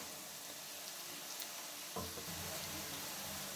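Finely chopped onion frying in mustard oil, a steady soft sizzle and crackle that runs throughout, with a brief stirring clunk partway through.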